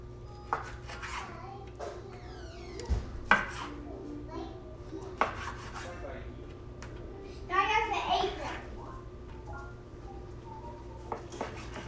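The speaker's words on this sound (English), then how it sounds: "So now I'm just going to cut it into bite-sized pieces" A knife cuts grilled steak into bite-sized one-inch cubes on a board for kabobs, giving sparse, quiet knocks and scrapes with a faint voice murmuring in the background.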